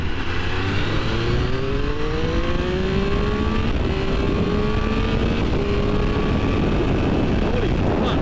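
A Triumph Speed Triple 1200RS motorcycle accelerates hard on a road, its engine note rising through several gear changes with loud, steady wind rush throughout.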